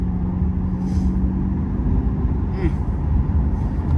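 Chevrolet Corvette C8 Stingray exhaust heard from inside the cabin, a steady, muffled low drone from the engine and road that stays constant and subdued throughout.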